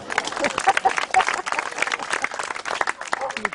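Audience applause at a conference in Céret, a dense patter of many hands clapping continuously at moderate volume, with some crowd noise mixed in.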